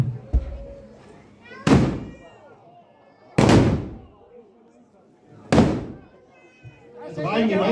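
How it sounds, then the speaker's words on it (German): Three loud, sharp volleys of joint gunfire at a medieval festival in Germany, spaced about two seconds apart, each with a booming echo, separated by a low murmur of background voices. "Das war ein gemeinsamer Schuss"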